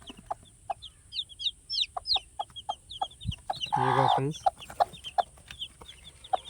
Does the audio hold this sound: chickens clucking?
yes